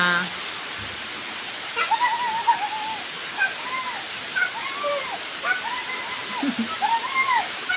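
Rain pours steadily and splashes water across the spot, making a continuous broad wash of noise while a person talks over it in a lilting voice.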